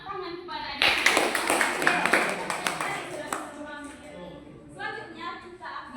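Classroom applause breaking out after a teacher's prompt, a burst of many hands clapping for a few seconds, with children's and an adult's voices talking before and after.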